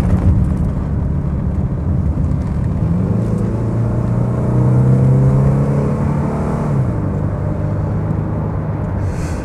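Mercedes 190E 2.3 16v Cosworth automatic kicking down under acceleration, a loud sustained engine drone with rising and shifting tone heard from inside the car over road noise.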